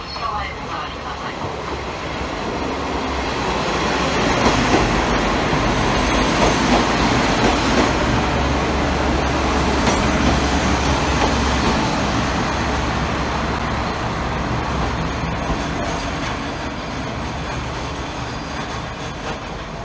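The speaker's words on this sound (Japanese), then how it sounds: "デザインが奇抜な3両編成の機動車がやってきました" A three-car KiHa 47 diesel railcar train rolls into a station with a loud, sustained rumble, wheels clattering and engine droning close by as it arrives and slows.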